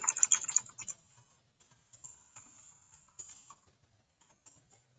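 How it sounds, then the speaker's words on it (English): Quick bursts of computer keyboard typing: a dense flurry of clicky keystrokes at the start, then scattered lighter taps trailing off into near silence, close and quiet. "So I'm just going to type in right over there."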